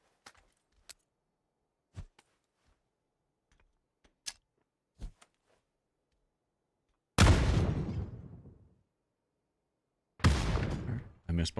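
Two heavy grenade blasts go off in PUBG, each a loud booming burst with a decaying rumble, a few seconds apart. Sharp isolated clicks and ticks come before them.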